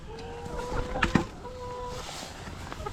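Chickens cluck and murmur inside a snow-covered coop on a frozen Tennessee farm, with soft, scattered calls and a few louder clucks over a steady low background hum, fairly close and without speech.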